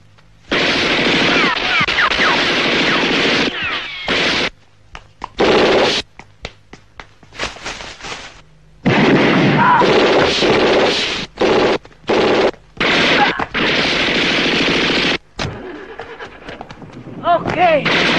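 Loud bursts of gunfire ring out in an old Indonesian film shootout, dense volleys of shots broken by short gaps, continuing in intermittent bursts throughout.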